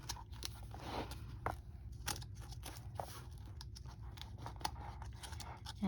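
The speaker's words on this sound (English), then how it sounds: "I'm just going to try to get these strings in here cut apart." A knife slices through the binding strings of an altered-book planner, giving crisp clicks and crunchy snaps scattered irregularly over a soft steady background, close and fairly quiet.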